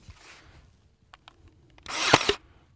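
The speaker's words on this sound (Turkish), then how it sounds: "makineyle çiviliyorum" A nail gun drives 5 cm nails into a grafted fruit tree: one loud, sharp burst of impacts near the end, after a few faint clicks and handling sounds.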